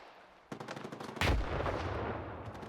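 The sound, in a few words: gunfire in a shooter video game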